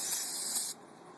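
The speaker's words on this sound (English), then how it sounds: "I'm gonna go ahead and clean it off with some brake cleaner real quick" Brake cleaner sprayed onto a Ford 2000 tractor transmission shifter part, a loud steady aerosol hiss lasting under a second that cuts off abruptly, leaving a faint background hum.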